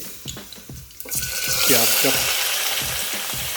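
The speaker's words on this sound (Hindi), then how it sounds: "इसमें हम लोग डालेंगे 2 तेज पत्ता, इलायची छोटी वाली 3 और 2-4 लौंग।" Bay leaves, small cardamom pods and cloves hit hot oil in a pan for a black chana curry, bursting into a loud, broad sizzle that swells after a second and holds steady, with a few low voiced sounds underneath at the start.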